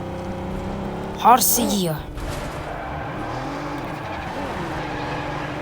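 A car driving in the video game PUBG revs past with a brief loud engine swell and tire noise, then fades to a steady low drone while players talk over it.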